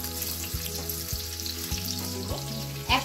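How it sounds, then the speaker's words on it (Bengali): Onion fries lightly in oil in a pan, a steady close sizzle with a low rhythmic hum underneath and a brief clatter near the end, no talking. "পেঁয়াজটা হালকা একটু ভেজে নিচ্ছি।"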